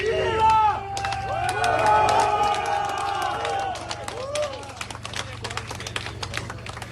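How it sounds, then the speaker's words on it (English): Locals in a street in Rostov-on-Don cheer for Wagner group soldiers who have taken over the city. The crowd is close, with whoops, shouts and a steady hubbub, while a low engine hum runs underneath. "here locals are heard cheering for the soldiers"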